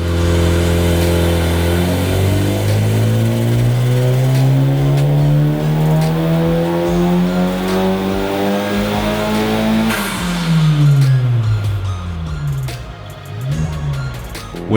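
An FK8 Honda Civic Type R, fitted with an upgraded intercooler, catless downpipe and intake and tuned on a dyno, revs loudly and up close, climbing through a long pull before dropping off with shifts and bursts of throttle.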